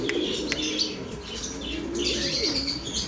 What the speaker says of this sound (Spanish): Palomas hembras azules de barra.